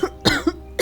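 Three harsh, raspy coughs in quick succession, close and fairly loud, with brief pauses between them.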